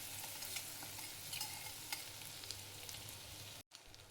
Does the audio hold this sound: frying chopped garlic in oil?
yes